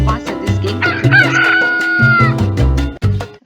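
Rooster crowing in a click game, a loud, drawn-out cock-a-doodle-doo with clucking notes around it, played close and alone with no talk.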